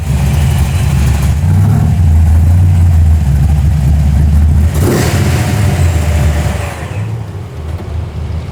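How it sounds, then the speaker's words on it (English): Car with a slant six engine running at a coast cruise-in car show: a loud, close, steady low rumble that swells briefly, then eases back toward idle near the end. "That's a slant 6 in there? Yeah, it sounds like it."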